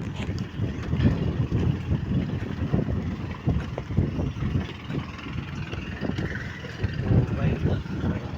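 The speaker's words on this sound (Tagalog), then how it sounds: "malakas ang hangin" Strong wind blows steadily across an open farm plot of young coconut plants at night, a continuous loud roar with gusty buffeting on the microphone throughout.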